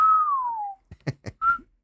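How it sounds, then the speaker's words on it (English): A person whistles a long, falling note, then gives a few short chirps and ends on a brief steady tone, clear and close with no talking. "as soon as they hand her to me, I'd start doing my and I whistle at her"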